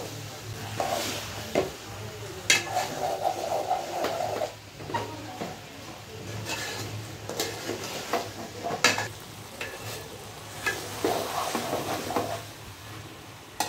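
A boiled soybean mixture is stirred in a frying pan, with a low sizzle beneath irregular spatula scrapes and clinks against the metal, recurring in short bursts close by.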